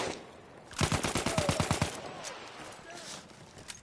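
A burst of rapid automatic gunfire from a video game, a dozen or so evenly spaced shots fired from the hip, followed by quieter scattered shots, with voices talking around it.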